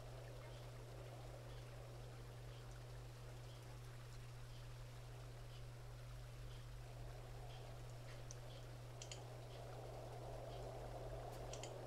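Water runs steadily into a waterskin in a fantasy role-playing game, a soft continuous trickling stream over a constant low electrical hum, with a few faint higher splashes near the end.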